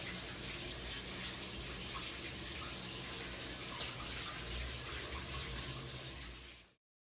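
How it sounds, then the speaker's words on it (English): Water from a running shower hisses steadily and fairly softly, a constant spray that carries on for several seconds and then stops abruptly. "So, shower's on."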